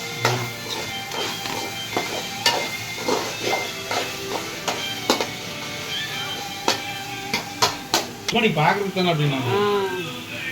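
Beef roast frying with masala in a pan: a soft sizzle with scattered taps and scrapes of stirring, heard close under people chatting.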